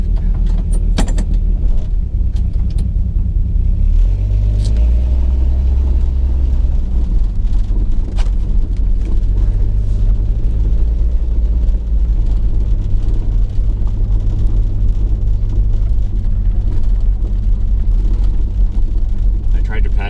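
A 1966 Plymouth Valiant engine turns over and settles into a loud, steady low idle close by, with creaks and mechanical clatter on top of the rumble throughout.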